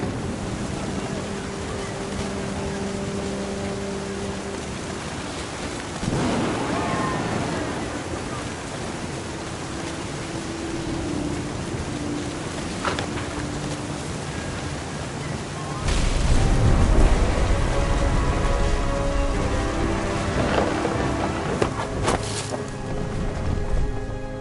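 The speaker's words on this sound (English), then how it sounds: "The thunder sounded much too close and full of angry power" Thunder rumbles and heavy rain pour through a stormy scene in the video game What Remains of Edith Finch, with surf-like washes of noise and deep booms swelling louder near the end.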